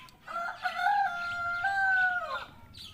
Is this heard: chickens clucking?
yes